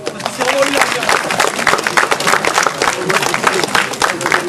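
A crowd at a breakdance top rock and footwork battle claps and cheers loudly, a busy wash of many hands with shouts mixed in throughout.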